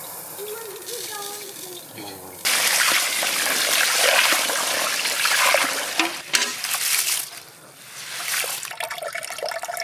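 Water splashes and drains off washed rice in a village-style kitchen, a steady close wet rush and spatter after a quieter start, running on for several seconds.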